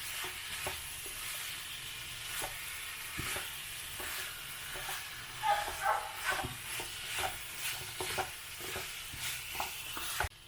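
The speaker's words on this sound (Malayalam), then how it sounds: "ഇനി നമുക്ക് ഫ്ലെയിം കൂട്ടി തന്നെ വെച്ചുകൊണ്ട് നന്നായിട്ടൊന്ന് ചിക്കനുമായിട്ട് ഈ കൂട്ടൊന്ന് നമുക്ക് മിക്സ് ചെയ്തെടുക്കാം." Fried chicken for chicken kondattam is stirred with masala in a pan over high flame, a continuous quiet sizzle broken by repeated sharp scrapes and clacks of the spoon against the pan.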